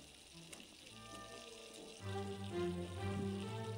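Tomato and onion frying in a pan for a chicken skin curry, a steady close sizzle that swells louder partway through as more goes in, with no talk.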